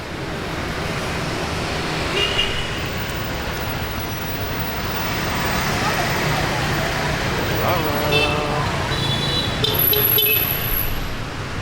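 Dense road traffic fills a Saigon street in Vietnam, with continuous engine and road noise and scattered short horn toots, mostly up close and at moderate loudness.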